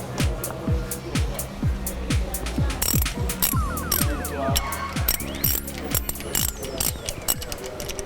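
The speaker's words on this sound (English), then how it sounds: "So here I have my ratchet handle and my" A hand ratchet clicks in rapid bursts of repeated pawl strokes with a large 40mm socket, loosening the lower bolt on a brake caliper, close and fairly quiet with faint workshop ambience.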